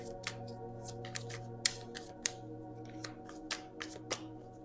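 Tarot cards shuffled by hand in a quiet room, giving a run of short, crisp riffles and snaps at an uneven rhythm, close and soft, with no one talking.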